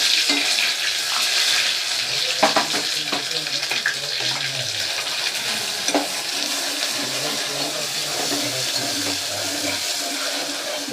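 Masala frying with curry leaves for a Maharashtrian thali, a steady loud sizzle under repeated scraping and stirring strokes in the pan, with a voice faintly in the background.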